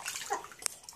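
Tap water runs briefly for handwashing at a sink, a soft steady splash followed by a sharp drip or splat near the end, with no talk.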